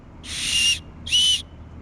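Survival whistle blown for a rescue signal: two sharp, shrill blasts, each about half a second with a short gap between, loud and close in an otherwise quiet setting.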